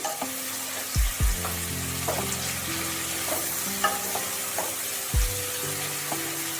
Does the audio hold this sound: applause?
no